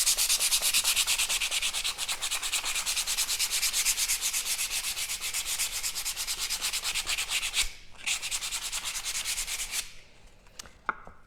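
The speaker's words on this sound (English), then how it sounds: "I'm going to use a 100 grit piece of sandpaper, and I'm going to sand them." Steady, close rasping of 100 grit sandpaper rubbed back and forth over painted wooden blocks, continuous for about eight seconds, a brief pause, then more strokes that fade out near the end.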